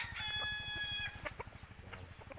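Backyard chickens being dosed with vitamin B-complex cluck in a soft, rapid patter, with a brief higher crowing note near the start, faint and fairly close with no voices.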